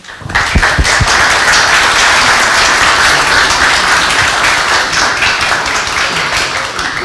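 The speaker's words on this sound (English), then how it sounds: "Please applause" A Rotaract club audience at an evening event breaks into loud, sustained applause. Dense clapping swells in quickly and carries steadily to the end.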